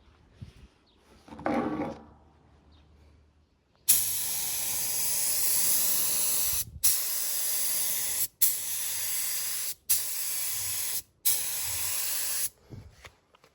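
A paint spray gun spraying paint in a light first coat: five loud, steady hissing bursts, each a few seconds long and separated by short pauses, close to the listener, with only faint background noise before them.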